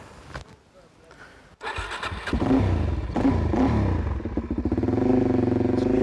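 A Supermoto motorcycle engine cranks and fires, catching after a brief quiet start and settling into a loud, steady, close idle with some revving and mechanical clatter.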